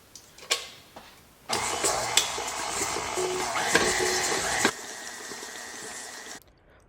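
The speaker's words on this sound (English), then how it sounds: "we're going to cream this butter and sugar together until it's light and fluffy again" An electric mixer creams butter and sugar for cookie dough, starting after a few faint clicks and whirring loudly and evenly for about three seconds before cutting off abruptly into quiet.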